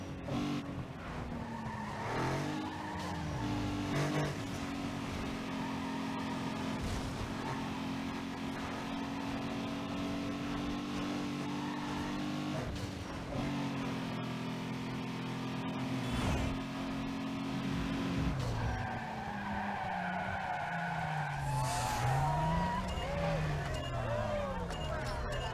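A video game car in Need for Speed Underground 2 drones with a steady engine hum that rises and falls, broken by tire squeals and skids, while a voice talks over the game sound.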